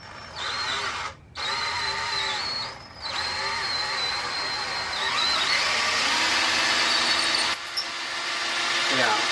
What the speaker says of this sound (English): The drill bit itself is actually not that long.